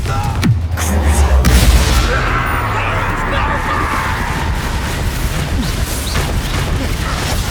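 Confringo fire-blast spell exploding in Hogwarts Legacy, a loud booming burst with crashing debris followed by sustained rumbling battle noise, with a voice shouting over it.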